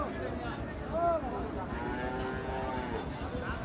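At a cattle market, a bull gives a single low moo partway through, mixed into a crowded background of murmuring voices and ambient market noise.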